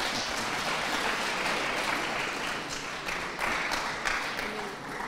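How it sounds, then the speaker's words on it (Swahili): An audience in a secondary school drama performance claps and applauds steadily and loudly for about five seconds, a dense continuous patter with no voices over it. "Piga makofi huyu."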